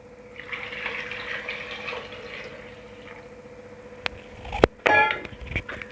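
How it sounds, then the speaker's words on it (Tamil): Water runs into a pot over sweet potato pieces left in their skins, a soft steady pour over a few seconds, followed by sharp metallic clangs of the pot near the end. "இந்த கிழங்கு முழுகிற அளவுக்கு தண்ணியை சேர்த்துப்போம்."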